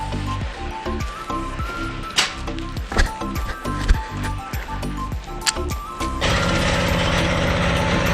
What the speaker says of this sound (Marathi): इथे टॉयलेटचं बांधकाम चालू आहे.